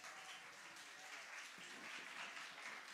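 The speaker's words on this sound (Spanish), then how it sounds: "Entonces recibámoslo por favor con un fuerte aplauso." An audience at an educational talk on the Colombian SABER 11 exam claps to welcome a speaker, producing a continuous, even spread of moderate applause across the whole stretch without talk.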